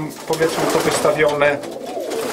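Pigeons of a show-quality breeding line cooing in short throaty bursts, close by, partly under a man's speech.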